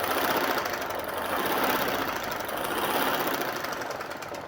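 Electric sewing machine running continuously while stitching trouser fabric, a dense, loud, steady mechanical whir with rapid needle rhythm throughout, no voices.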